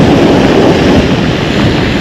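Strong sea wind gusts steadily across a Black Sea beach at Lazarevskoye, Sochi, a loud continuous roar buffeting the microphone with surf washing underneath and no voices.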